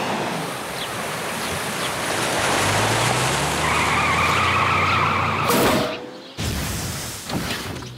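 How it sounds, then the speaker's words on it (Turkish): A cartoon bus rolls along with a rushing, skidding road noise, then a tire bursts after running over a sea urchin on the way to an island: a sharp loud bang, a brief hush, then a few softer thumps. "Aa, teker patlamış."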